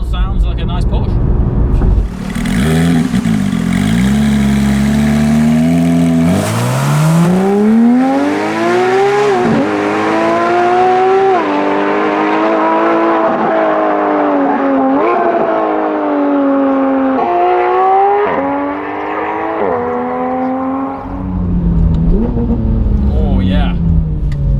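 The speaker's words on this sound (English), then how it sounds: "So far it still sounds like a nice Porsche." A Porsche 991 GT3 with a Sharkwerks exhaust accelerates hard, its loud engine note climbing in pitch through several gears with sharp shift dips, then easing off near the end.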